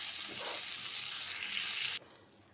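Cauliflower frying in oil on a gas stove gives a steady, close bright sizzle for about two seconds, then cuts off abruptly into a faint low hiss.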